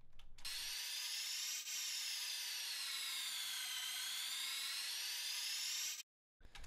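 A riser sound effect taken from Leviathan: a bright, sustained whoosh whose tones sweep downward and then climb back up over about six seconds, loud and unbroken, cutting off abruptly into silence.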